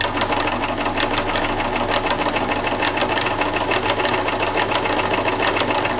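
A Privileg Ideal 750 sewing machine runs steadily, its needle mechanism producing a fast, even mechanical chatter that stays loud and close without a break, with no talking.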